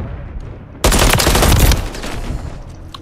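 Gunfire in Call of Duty MW3: a sharp, loud burst of a few rapid shots up close, fading into a ringing tail over low background game noise.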